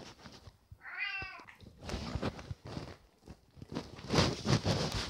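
A domestic cat meows in a short rising-and-falling call near the microphone, followed by rustling, shuffling and handling noises around it.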